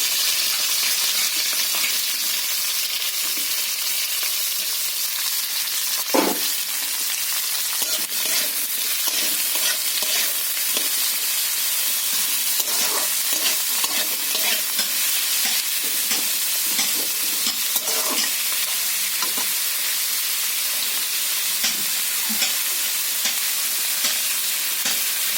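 Onion, garlic, ginger and tomato fry in a pan with a steady close sizzle. Repeated scraping strokes come from stirring, and a sharp clack of a utensil sounds early on.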